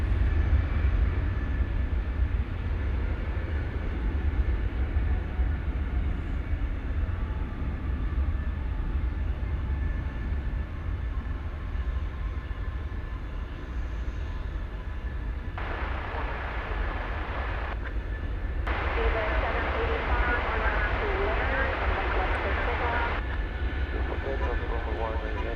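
An Airbus A319 airliner at DFW Airport produces a constant, far-off broadband engine roar that holds steady throughout, with brief bursts of mid-range noise partway through.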